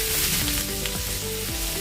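Vegetables drop into hot oil with cumin seeds, a loud, dense, close sizzle and frying hiss with faint stirring, no voices.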